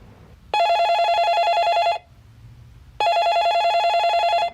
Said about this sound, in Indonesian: Extension di mejanya dia bunyi.